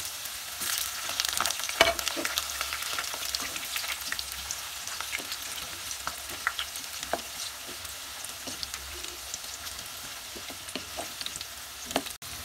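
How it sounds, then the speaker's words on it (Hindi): Potato pieces fry in hot mustard oil for Kashmiri dum aloo, a moderate steady sizzle broken by scattered pops and sharp clinks of a utensil against the pan, with no talking. "आलू को हम गोल्डन करके फ्राई करेंगे"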